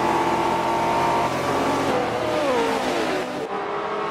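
Race car engines roar in a Forza 7 race at Homestead, a loud sustained whine with shifting pitch as cars accelerate through the pack, with no talk over it.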